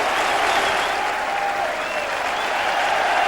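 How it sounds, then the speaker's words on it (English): A football crowd at a Millwall versus Manchester United match in the 1989/90 season applauds a goal, a steady, dense wash of clapping and crowd noise that holds evenly throughout, with no clear talk over it. "No wonder they applaud Darren Morgan."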